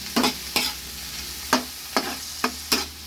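Sliced bitter gourd (ampalaya) being stir-fried in a pan, with a soft steady sizzle broken by about six sharp scraping stirs at uneven intervals, up close and alone.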